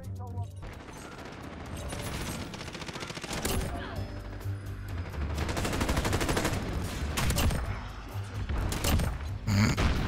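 Rapid gunfire from Modern Warfare rattles in dense, repeated bursts, loud and busy throughout, with a voice talking over it in places.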